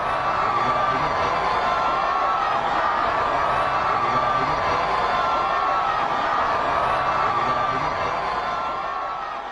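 A large outdoor crowd greets Pope Francis's motorcade in the Philippines with continuous, loud, dense cheering and shouting. The roar holds steady throughout and eases slightly at the very end.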